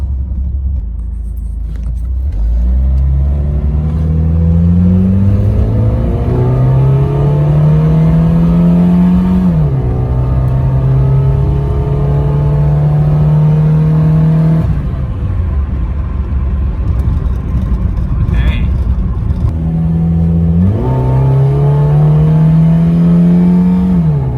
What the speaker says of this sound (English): true test is to floor it and keep flooring it and see if I run out of fuel